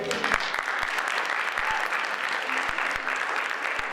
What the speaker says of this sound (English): So you can keep clapping for our next storyteller, Ruben.